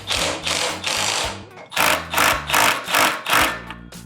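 A supplied 10 millimeter bolt is run in by a power tool on a Predator 212 Hemi mini bike front suspension, loud bursts of rapid rattling whir, about seven pulses in quick succession with brief pauses between, close up and without speech.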